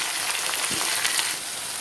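Potato pieces frying in a pan with salt and turmeric, a dense steady sizzle close up with faint stirring, no voices.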